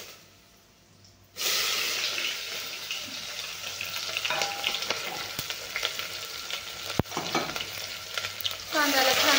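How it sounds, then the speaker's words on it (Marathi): Chopped onions with mustard seeds, cumin and curry leaves hit hot oil and fry with a loud, steady close sizzle, punctuated by stirring clicks and scrapes against the pan. "कांद्याला छान लाल होईपर्यंत भाजून घ्यायचं आहे"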